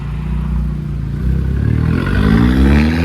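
A Corsa VXR rolls over speed bumps at a Japanese car meet, its engine rumbling low and steady, then growing louder as it accelerates away with a rising drone.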